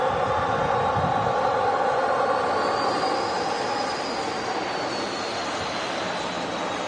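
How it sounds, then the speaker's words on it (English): An Airbus A220 passing with a steady, loud roar and a rising then falling high-pitched howl from its Pratt & Whitney geared turbofan engines, continuous and close, with no talk. "howl from the Pratt & Whitney engines on board"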